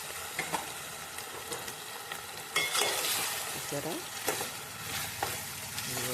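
Pieces of precooked country chicken frying in oil for a drumstick curry, a continuous bright sizzle with stirring and spoon scrapes close by, faint voice at times.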